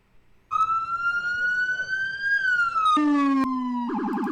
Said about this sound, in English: these cop cars are just blaring their sirens